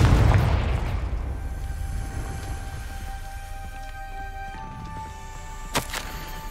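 A Confringo blasting spell in Hogwarts Legacy explodes with a loud opening boom that decays into a long, fading rumble with lingering tonal hum, and a small sharp pop comes near the end.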